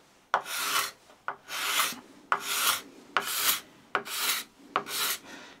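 A card scraper drags across rough pine in six rhythmic pulls, each a close, raspy shaving stroke about a second long, separated by short pauses as the steel is lifted and reset.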